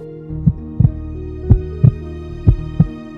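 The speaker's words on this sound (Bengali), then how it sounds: "ধুকপুক আওয়াজটা ক্ষীণ হয়ে এসেছে" A heartbeat thumps in slow paired beats, three lub-dub pairs, deep and close over a low steady hum, with nothing else around it.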